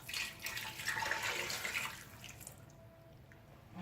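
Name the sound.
water being poured into a pot for tanjia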